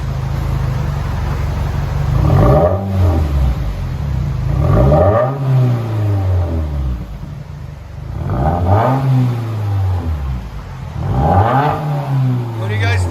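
A 2020 Subaru WRX with dual exhaust and a muffler delete revs repeatedly, four sharp throttle blips rising and falling in pitch over a rumbling idle, loud and close.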